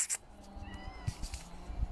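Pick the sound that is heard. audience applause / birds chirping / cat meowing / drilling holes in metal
cat meowing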